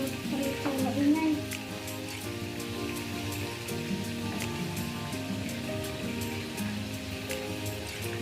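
Steady sizzling of food frying in a pan, close and continuous, with a low background hum and faint clatter.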